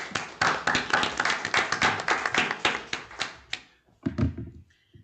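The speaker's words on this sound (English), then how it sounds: "I really want to just give you guys all a round of applause" An audience at a school board meeting breaks into brisk, fairly close applause of scattered individual claps that thins out and fades near the end, with no talk.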